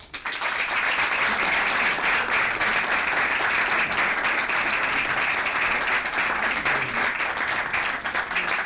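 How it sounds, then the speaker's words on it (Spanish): A loud, dense round of audience applause at a Holy Week brotherhood event in Cartagena carries on evenly for several seconds. "un aplauso para todos ellos"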